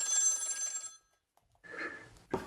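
A phone rings during an online call, a bright electronic ringtone burst, then a pause and a shorter second ring, with a faint breath or gasp between.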